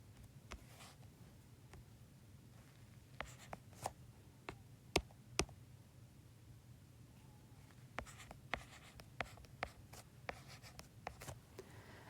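A pen writes logic proof notes by hand on paper, quiet close scratching with sharp irregular taps and strokes over a low background hum, no talking.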